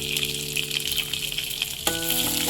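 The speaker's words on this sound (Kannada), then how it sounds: "ಈಗ ಕರ್ಬೇವಿನ ಸೊಪ್ಪನ್ನು ಹಾಕುತ್ತಾ ಇದ್ದೀನಿ." Curry leaves and green chillies crackle and sizzle in hot oil for ottu shavige, a loud, close, steady frying hiss with a brief sharp spurt partway through.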